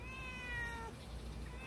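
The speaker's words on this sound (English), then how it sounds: "He keeps meowing!" A cat meows in the Super Mario 3D Land video game, a drawn-out, wavering call over a steady, dense background of game music and noise, fairly faint in the mix.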